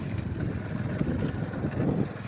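Floodwater rushing across a village area in Gujarat during heavy rain, a loud, dense, steady roar with buffeting wind noise on the microphone, close and continuous without speech.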